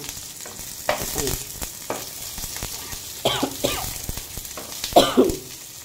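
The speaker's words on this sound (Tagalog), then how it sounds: "Inubo ako." A person coughs several times beside a frying pan where tofu steak and onions cook in oil. Short, loud coughs come in bursts over a continuous close sizzle and stirring clatter.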